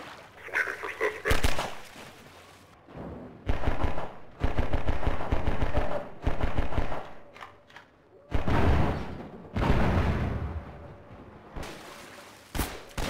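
Bursts of gunfire in Half-Life 2, loud rapid volleys in several clusters with brief gaps between them, dense and close.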